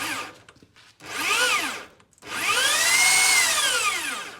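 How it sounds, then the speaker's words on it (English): A mill-drill with a motorised table runs at low speed, whining up and down in two separate runs with a short pause between, the pitch sweeping through each run. "I'm running the drill on fairly low speed."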